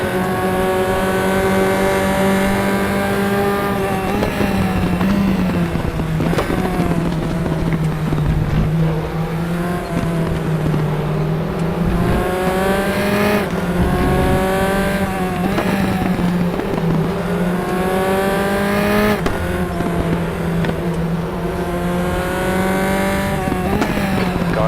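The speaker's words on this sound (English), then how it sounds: "Sounds of the track, sounds of the squealing tyres." A Tatuus F4 race car in RaceRoom Racing Experience at Moscow Raceway screams through repeated upshifts and downshifts, its engine pitch rising and falling in loud sweeps, with tyres squealing through corners, continuous and close throughout.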